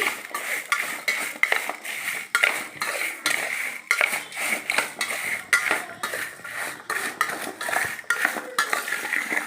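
A ladle stirs and tosses raw mango pieces with rock salt in a metal vessel for mango pickle, giving steady scraping and clinking close by with no voices.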